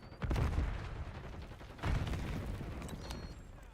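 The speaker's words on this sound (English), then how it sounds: "Tossing frag." A frag grenade explosion in the Call of Duty Black Ops 6 video game: two fairly quiet, distant-sounding blasts about a second and a half apart, each a short thud followed by a fading rumble.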